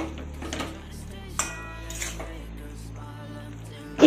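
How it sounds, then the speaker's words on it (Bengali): Ash gourd greens and eggplant being stirred in a pan for a ghonto, with a spoon scraping and clinking against the metal in close, intermittent strokes and a sharper knock near the end. "এবার দেখো সবটা খুব ভালোভাবে মিশিয়ে দিতে হবে।"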